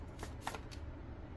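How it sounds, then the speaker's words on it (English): Oracle cards shuffled in a short, soft burst of papery riffling, quiet and close, with no voices. "I was called to pull one of these oracle cards."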